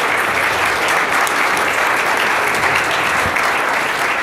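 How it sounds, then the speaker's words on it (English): An audience gives a steady, loud round of applause for event sponsors at a startup tech gathering, dense clapping holding evenly throughout with no talk over it. "A round of applause for all our sponsors."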